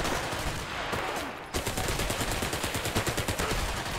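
A PPSh-41 submachine gun fires in the video game War Mongrels, a long, fast, even burst of close, loud shots that cuts in sharply after a rumbling lead-in.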